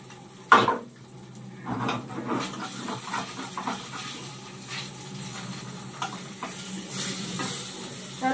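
Fish fries in a pan on a home stove with a soft, steady sizzle, broken by occasional clinks and scrapes of utensils against the cookware.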